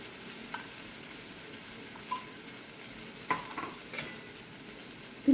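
Ghee sizzling softly in a pan of wheat rava upma as it is stirred, a low steady fry with a few light scraping knocks of the spoon against the pan.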